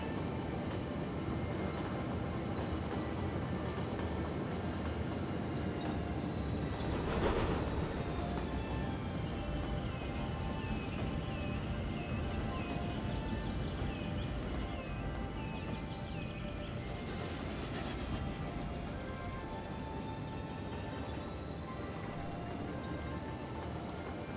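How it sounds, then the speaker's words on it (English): A train with a steam locomotive rolling past in the Cities Skylines city-builder game, a long steady rumble with a sustained whistle-like tone that bends in pitch as it goes by, fairly constant in loudness. "Oh, here comes another train. This one has a steam locomotive on it."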